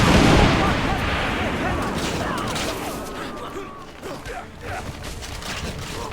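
Cannon artillery fire in the video game Assassin's Creed Revelations, one loud booming blast at the start that fades into a long rumbling tail with scattered battle noise, and a voice talks over it.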